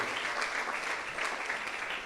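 Audience applause fills the space, a steady dense clapping from a crowd that holds at an even level for a couple of seconds.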